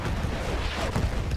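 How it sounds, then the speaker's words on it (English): Artillery fire in the Battlefield 1 campaign's World War I battle, a short burst of heavy low rumbling booms with a sharp crack near the end, loud and close. "Oh man, artillery!"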